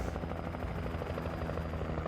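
Thick, steady rotor chop from a helicopter in the video game Alan Wake, close and loud, with a rapid pulsing beat and nothing else over it.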